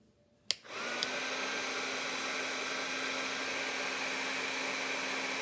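A Bauer cordless heat gun from Harbor Freight starts with a sharp click and then blows steadily, a continuous loud airy rush with a faint whine that holds unchanged to the end, with no voices.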